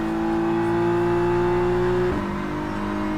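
An M4 GT3 race car overtakes at Laguna Seca in rFactor 2. A loud, steady engine drone holds high, then drops in pitch as it shifts gear partway through.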